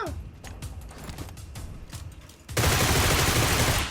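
PUBG Mobile game gunfire from a UMP submachine gun rattles in a quick series of close, sharp shots, then gives way to a loud steady rush of noise.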